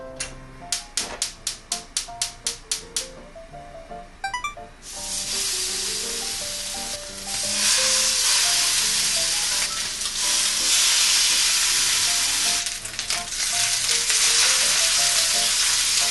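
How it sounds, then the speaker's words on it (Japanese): Pork belly chashu sears in a large pot after a run of sharp clicks, breaking into loud steady sizzling and frying hiss that swells and holds as fat renders, close and continuous. "このサイドの面とか、こっち側の断面とか、すべての面に焼き目をつけてコーティングしてる感じですね"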